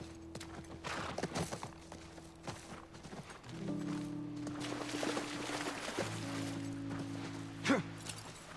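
In the video game The Last of Us Part 1, a horse walks with soft, steady hoofbeats clopping at a moderate distance under sustained low musical tones from the game's score.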